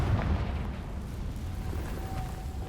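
A Confringo fire spell bursts in Hogwarts Legacy, giving a dull low boom at the start that rumbles on under steady game ambience.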